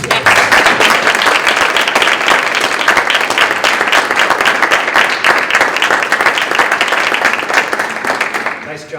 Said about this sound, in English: Can we get a round of applause for these awesome kids?